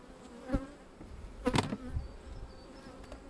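Bees buzz close by in short passes around a hive, the hum swelling and fading as individual insects fly near, faint and intermittent against a quiet outdoor background.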